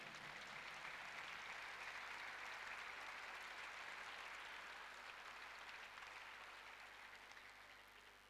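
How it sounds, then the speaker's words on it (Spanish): A church congregation gives a long, continuous burst of applause, heard faint and distant as an even wash of clapping that slowly tapers toward the end. "Un fuerte aplauso a la palabra del Señor."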